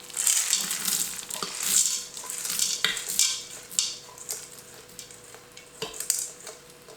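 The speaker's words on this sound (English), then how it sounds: "We're just going to dump this all into the Instant Pot." Rinsed beans are dumped into an Instant Pot, making a close, rattling rush of pattering and scraping bursts that fade into scattered clatters.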